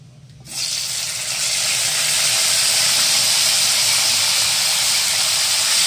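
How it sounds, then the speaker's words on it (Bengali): Washed okra slides into hot oil already crackling with whole cumin seeds, setting off a sudden loud, steady hiss of sizzling that holds strong to the end, with no talking. "এবার দিয়ে দেবো ধুয়ে রাখা ভেন্ডিগুলো।"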